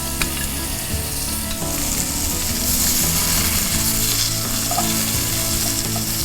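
Pieces of wild pork tenderloin sizzle loudly in olive oil in a cast iron skillet, a dense, continuous frying hiss that swells after the meat settles in, close and with no talk.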